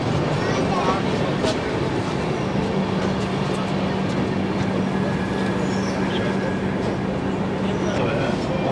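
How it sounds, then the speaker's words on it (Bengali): The Kumbha Express pulling out of Laksar Junction, a steady low rumble of rolling carriages with faint wheel squeal, heard from inside the train with voices in the background. "লক্সার জংশন থেকে আমাদের ট্রেন ছেড়ে দিয়েছে।"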